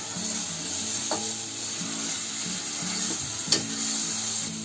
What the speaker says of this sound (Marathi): असा कांदा आहे ना चांगला फ्राय करून घ्यायचा लाल होईपर्यंत बघा